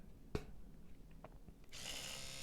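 An Oral-B Vitality 100 electric toothbrush clicks on and its rotating head buzzes with a steady high whir, close and continuous after a couple of button clicks and handling knocks.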